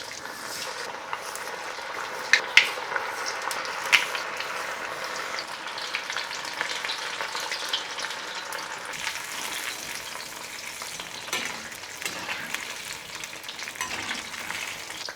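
Paneer fingers fry steadily in hot oil with a continuous close sizzle and crackle, a few sharp pops near the start, no talking.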